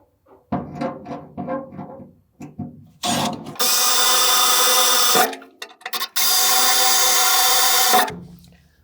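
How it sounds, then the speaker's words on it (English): A drill bit bores pilot holes into metal on a 1966 GMC, with short ratcheting clicks, then two long, loud, steady whining drill runs separated by a brief pause. "now that we got our pilot holes drilled from the inside"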